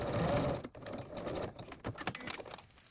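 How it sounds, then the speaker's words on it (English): Domestic sewing machine stitching a backward stitch on a skirt, a short burst of rapid mechanical whirring followed by uneven stop-start running, close and alone with no voices. "And then now I'm just going to sew a backward stitch."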